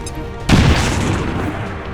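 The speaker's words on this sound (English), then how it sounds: "I say we start with grenades and see what grenades can do." A grenade explosion in XCOM 2, a sudden loud boom that rolls into a long rumbling decay lasting well over a second.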